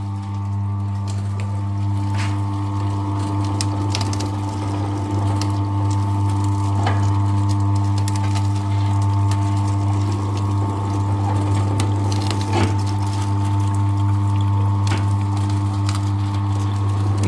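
Sugarcane juice machine crushing cane, a loud steady motor hum with grinding and squeezing crackles and occasional sharp knocks throughout, close and continuous.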